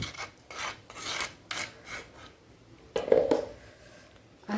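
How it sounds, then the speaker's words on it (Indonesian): Spice paste for rujak is scraped out and tipped onto finely chopped coconut palm heart: a run of close, rasping scrapes and rubs in short strokes, ending with a louder, wetter scrape. "Sekarang kita tuang bumbunya ke dalam umbut kelapa yang sudah dipotong kecil-kecil."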